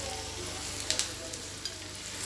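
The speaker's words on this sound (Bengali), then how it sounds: "রসুনের কুচিটাও আমি পেঁয়াজের সাথে ভালো করে মিশিয়ে নিচ্ছি" Chopped garlic and onions frying in a pan for a beef bhuna, a steady soft sizzle with a few sharp clicks of stirring near the middle and end.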